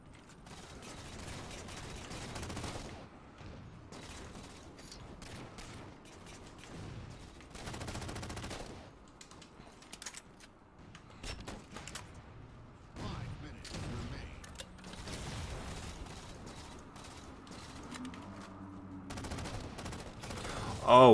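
Scattered gunshots and short automatic bursts from a long-range weapon in Halo MCC, fairly quiet and spread through the scene with mechanical clicks and game sounds around them.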